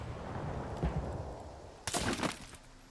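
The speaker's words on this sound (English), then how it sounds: "They are making me curious though with those explosions." Distant grenade explosions in the video game STALKER 2: a dull muffled boom, then a louder crackling blast a second later, heard far off over steady ambient background noise.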